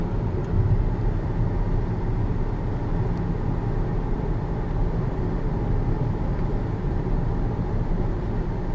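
A steady, low engine rumble and road noise fill the cabin of a car driving along a quiet road outside the city, constant and fairly loud.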